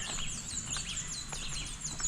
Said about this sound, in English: You got the birds singing.